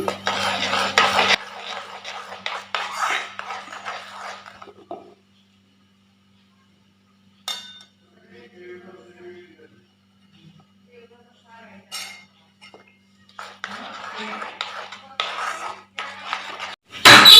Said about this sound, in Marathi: यामध्ये मी गव्हाचं पीठ आणि मैदा टाकणार आहे हळूहळू